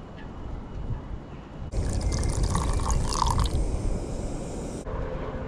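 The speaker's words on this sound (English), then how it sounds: "We'll add some milk now." Milk poured into chai tea outdoors on a cold day, a steady liquid splashing and trickling that starts abruptly, runs for about three seconds and then stops, set over low background rumble.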